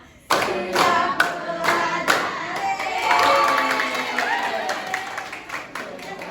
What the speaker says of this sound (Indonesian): Tepuk 1, tepuk 2, tepuk 3, semangat, tepuk 4, konsentrasi, Tepuk 5.